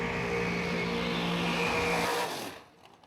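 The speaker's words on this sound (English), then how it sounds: "here he's going to do another burnout" A big-block drag racing car roars through a burnout, its engine droning loud and steady with tire noise for about two seconds before cutting off and fading.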